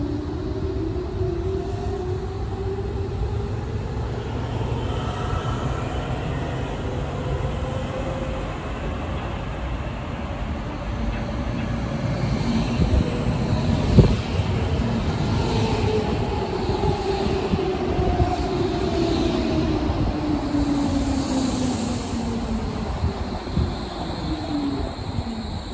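A Berlin S-Bahn S42 Ringbahn train pulls into Innsbrucker Platz station with a steady rumble, whining motors rising and falling and a sharp clank midway, heard alone without talk.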